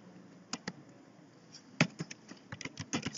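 Keystrokes on a computer keyboard while entering C code for an if-statement program, irregular taps in short bursts, close and moderately loud over a faint room hum, with no talking.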